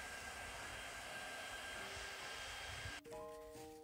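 A hair dryer speeding the drying of chalk paint on a coffee table during a makeover, heard as a loud, steady close whir with shifting motor tones that change abruptly near the end, no talk.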